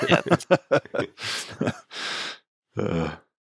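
A person yawns close up, with a few drawn-out breathy inhales and exhales and a voiced, groaning tail at the end.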